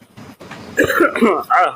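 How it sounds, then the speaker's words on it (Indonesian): A couple of quick, close coughs with a throaty, voiced edge, loud and brief. "Lagi batuk."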